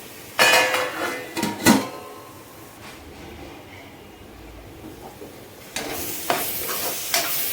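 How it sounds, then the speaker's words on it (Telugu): Masala fries in hot oil in a pot for mutton bone soup, stirred with a metal spoon: scraping clanks come in bursts near the start and again near the end over a steady soft sizzle. "ఇప్పుడు ఈ మసాలాని ఒక 5 మినిట్స్ ఆయిల్లో అయితే మగ్గనిద్దామండి."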